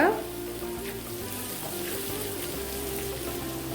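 Onions frying in a pan for homemade pizza sauce give a continuous, moderately loud sizzle with occasional stirring scrapes, close by and without talk.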